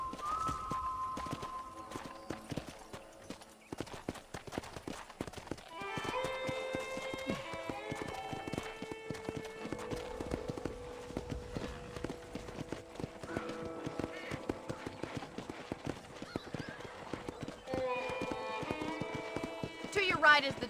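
Steady clip-clop of a horse galloping in Red Dead Redemption, rhythmic hoofbeats running throughout beneath a continuous narrating voice and game music.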